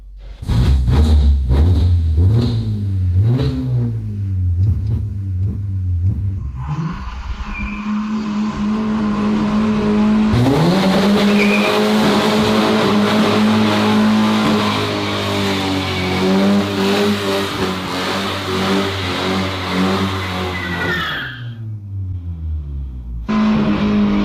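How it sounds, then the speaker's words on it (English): A BMW being readied as a drift car revs and accelerates hard on a test drive, loud engine roar climbing in pitch with screeching tire squeal and skidding, continuous and close for the whole stretch. "It really does burn rubber, you know?"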